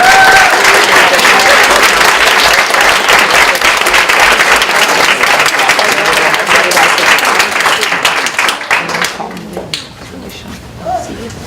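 School board meeting audience giving the teachers a big, loud round of applause, dense and sustained for about nine seconds before thinning out and fading into quieter room noise.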